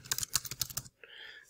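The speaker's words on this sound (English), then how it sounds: "first thing we do, we're going to just start typing in" Rapid typing on a computer keyboard, a quick run of close, crisp clicks, then a brief pause and a soft sustained tone.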